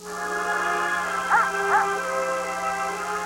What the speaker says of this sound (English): Now that's a dog.